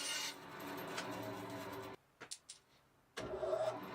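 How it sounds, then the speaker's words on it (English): Guitar headstock wood being shaped against a spindle sander: a loud, close rasping grind runs for about two seconds, stops for a quiet gap with a few light knocks, then the grinding resumes. "I'm going to have to do a little bit more shaping on the spindle sander rather than doing all of it on the bandsaw"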